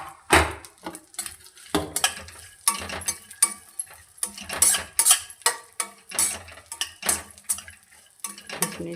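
A spoon scrapes and clatters in a pan while a coconut and dry fruit mixture, with raisins, is stirred for dry fruit laddoos, giving repeated close, sharp knocks in a loose rhythm with no talking.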